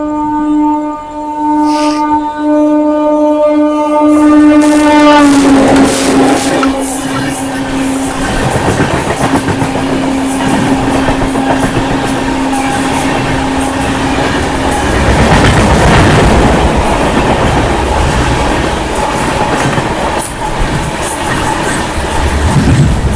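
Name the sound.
passing train crossing the Dehradun Tanakpur Express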